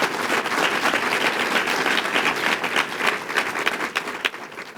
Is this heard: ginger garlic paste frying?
no